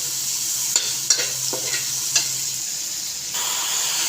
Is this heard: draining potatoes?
no